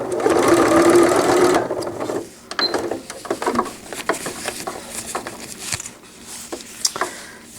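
A sewing machine runs a long straight stitch along a cloth diaper cover with gussets, a steady loud whirring burst at first, then shorter uneven runs of stitching with brief pauses between them.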